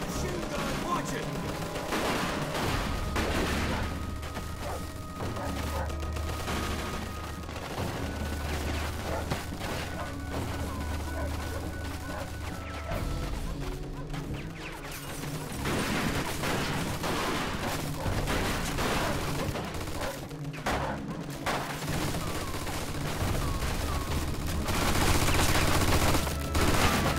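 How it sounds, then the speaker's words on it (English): Dense, sustained machine gun bursts and scattered gunfire fill a firefight in Mafia II: Definitive Edition, loud and continuous, with shouting voices mixed into the chaos. "Looks like we found the machine gun!"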